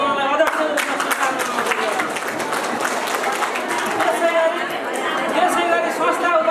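Applause from a crowd at a small farmers' cooperative general assembly, steady sustained clapping with chatter mixed in and voices audible underneath.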